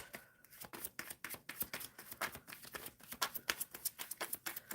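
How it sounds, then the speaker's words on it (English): Tarot cards are shuffled by hand, with a close, rhythmic series of crisp riffling snaps that repeat steadily and grow busier toward the end, and no speech over them. "All right, shuffling for Kenza."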